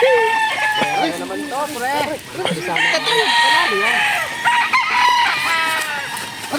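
A fighting rooster crows repeatedly and loudly up close, each crow rising and falling, with clucking in between and someone talking over it.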